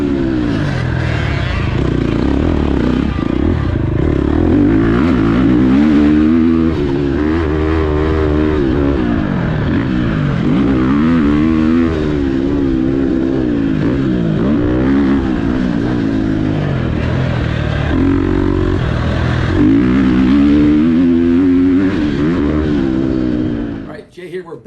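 Engine of an FC 270 Racer X motocross bike revs repeatedly up and down, a loud close buzzing that rises and falls in rapid sweeps for the whole stretch, then cuts off at the end.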